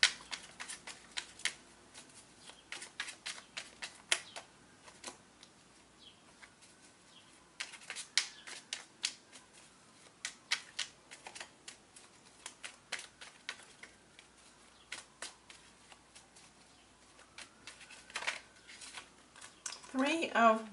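Tarot cards are shuffled and drawn for a love reading, making dense crisp riffling and flicking bursts that come and go over about twenty seconds, close and fairly soft.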